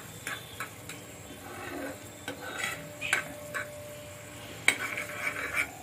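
A small spoon stirring thickened milk for egg pudding in a pot, making light clinks and scrapes against the metal amid a faint simmering hiss, spaced irregularly and fairly quiet.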